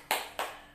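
Group doing the 'tepuk hebat' clapping chant during a social welfare training session: two sharp, loud unison claps about a third of a second apart, close, with no voices.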